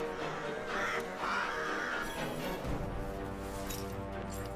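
Birds cawing in the video game Forspoken, crow-like calls rising over a dense, steady game soundscape with continuous background rumble.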